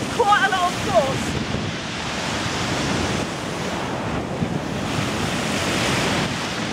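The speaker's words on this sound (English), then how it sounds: "it's subject to hydraulic action from the waves here" Sea waves surge steadily against a sea wall on the North Norfolk coast at Overstrand, a loud continuous roaring wash mixed with heavy wind buffeting the microphone, plus a brief bird call near the start.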